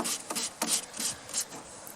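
Sandpaper rubs paint off a 1934 Pacific Model 107, a series of quick, raspy back-and-forth strokes, close and fairly quiet, with no voices.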